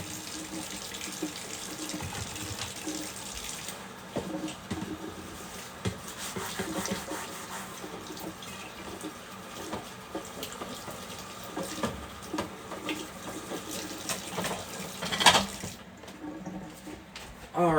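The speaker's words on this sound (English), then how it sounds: "Give my knife a rinse." Tap water runs steadily into a sink as a kitchen knife is rinsed, a continuous close splashing hiss lasting throughout with a few brief clinks near the end and no talking.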